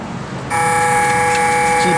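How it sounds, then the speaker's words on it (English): A steady electronic key reminder buzzer in a 1971 Oldsmobile Cutlass Convertible switches on and drones continuously over a low background rumble inside the car. "Key buzzer works."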